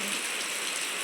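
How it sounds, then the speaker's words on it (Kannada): Heavy rain pours down steadily in a village, a dense, even hiss of drops on surfaces with no pauses or voices. "ಮಳೆ ಮಳೆ ಮಳೆ ತುಂಬ ಜೋರು ಮಳೆ ಬರ್ತಾ ಇದೆ"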